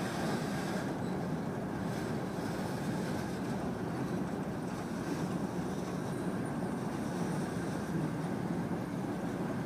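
Slow FEC freight train rolling past, a steady low rumble of wheels and railcars holding level throughout, continuous and fairly close.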